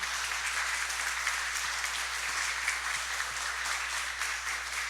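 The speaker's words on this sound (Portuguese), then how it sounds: "eu pediria de início uma salva de palmas para essa galera aqui" An audience applauds the event organizers at an opening conference on material culture studies at UERJ, a dense, steady wash of many hands clapping at moderate level for the full stretch, with no voices over it.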